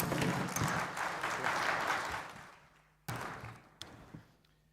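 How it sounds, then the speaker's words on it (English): Warm applause for a speaker at the SAM 2025 closing ceremony: dense, loud clapping for about two and a half seconds that fades out, followed by a few isolated claps and thumps. "A warm round of applause for him, please"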